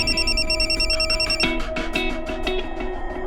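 A mobile phone rings with an incoming call, its repeating electronic ringtone melody sounding close and clear in an indoor scene, with no talking over it.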